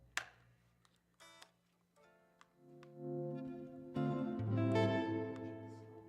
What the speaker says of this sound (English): Well, that's a lot of reverb.